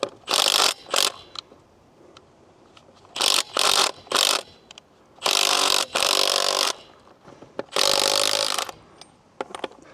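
A Milwaukee M12 stubby impact wrench hammers at Sprinter van lug bolts, breaking them loose in about seven sharp, loud rattling bursts separated by short pauses.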